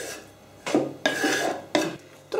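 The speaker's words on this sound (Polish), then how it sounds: "Posiekane truskaweczki przerzucam do garnka i zaraz będę je dusiła" Chopped strawberries are scraped off a board into a cooking pot for strawberry sauce, heard as several short close scraping and rasping strokes against metal, with brief pauses between them.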